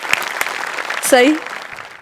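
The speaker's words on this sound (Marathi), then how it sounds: "मस्त, खूप टाळ्या" An audience at a Marathi comedy stage show applauds in a short burst of scattered claps, with a voice speaking over it and a brief rising whistle-like sweep near the middle.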